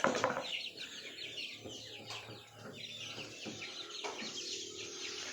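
Chickens in a backyard coop cluck and squawk in short, repeated bursts, close and fairly clear, with several birds calling over one another and no talking.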